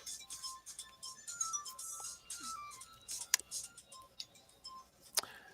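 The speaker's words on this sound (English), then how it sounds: "my wife's phone in the background" A wife's mobile phone rings in the background with a faint melodic ringtone made of short repeating notes, broken up by a few sharp clicks and ticks.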